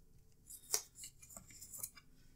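Paper is cut in half for a planner, a few soft, close snipping strokes with brief metallic edges, fairly faint and alone.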